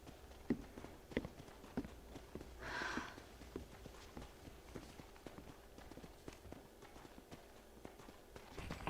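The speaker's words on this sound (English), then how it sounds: "my stinking horse is still sitting there trying to gallop into here" In Red Dead Redemption, a player's horse paws and steps in place, giving faint, irregular hoof clip-clops with a soft snort partway through, all at low volume.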